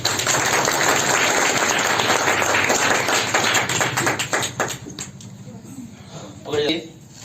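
A class at a science quiz gives the winner a round of loud, dense clapping close by that holds strong for several seconds, then breaks off into scattered claps and brief voices.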